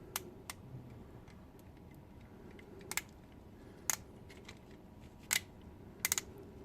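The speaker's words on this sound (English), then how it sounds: "The ratchets going out." Ratchet joints on a Thrust transforming toy robot click in sparse, sharp single and double snaps spread irregularly across a quiet room, close and crisp.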